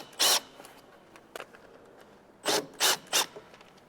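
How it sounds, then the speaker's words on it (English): A screwdriver drives screws into sill plates in short bursts of rasping, whirring turns: one burst, a faint click, then three quick bursts in a row, close and fairly loud. "Got them started by hand, and just use a screwdriver or a light setting on your drill."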